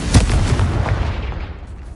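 A Confringo blasting spell in Hogwarts Legacy goes off as a single sharp booming blast at the start, then a rumbling tail that fades out over about two seconds.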